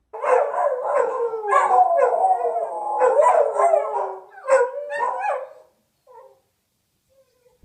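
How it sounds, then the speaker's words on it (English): A dog howls and yips in long, wavering cries, loud and close, trailing off into a couple of faint short yelps before silence. "The barking dog, a common problem that many people have"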